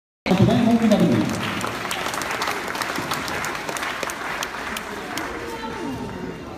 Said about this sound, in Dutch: En als u ze dan een applaus geeft, dan komen zij naar boven